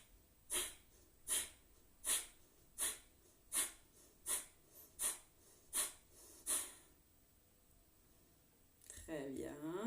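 Nine sharp, forceful exhales of Kapalabhati yoga breathing puff out in an even rhythm close to the microphone, followed by a voice starting to speak.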